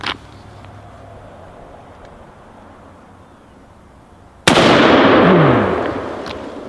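A single loud blast from a .375 H&H Magnum rifle cracks out after several seconds of quiet outdoor background, then rolls away in a long, decaying echo.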